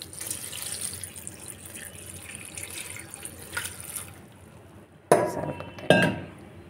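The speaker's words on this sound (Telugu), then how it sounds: "వాటర్ యాడ్ చేసుకొని" Water is poured into a cooking pot holding dal, washed leafy greens and turmeric for aakukura pappu, heard as two sharp splashing bursts over a steady low kitchen hiss.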